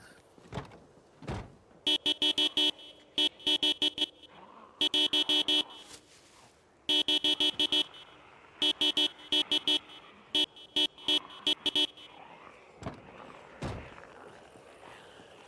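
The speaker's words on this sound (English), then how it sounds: "Honking the car horn only makes a sound when you initially press the button." Car horn honks in Project Zomboid Build 42, sounding in a run of short, evenly repeated beeps with brief gaps, loud and close, separated by a few quieter thuds and pauses.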